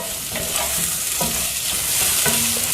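Onions being sautéed in a pan for araithu vitta sambar crackle and sizzle loudly up close while a spoon scrapes and stirs them in a few short strokes.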